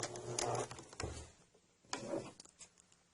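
Short bursts from a sewing machine stitching a Y-seam, with two quick whirring runs of stitches about a second apart, close and fairly quiet, with no talk.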